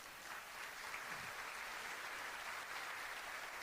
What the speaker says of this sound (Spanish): Vamos a darle un aplauso a la palabra de Dios,